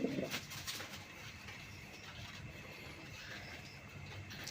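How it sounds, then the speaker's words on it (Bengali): A big-sized male pigeon coos inside its cage, low soft calls close by over steady background noise and a faint hum, no talking. "নটটার আমি একটু ডাকটা দেখাই, যে দেখেন নটটা কেমন ডাকে।"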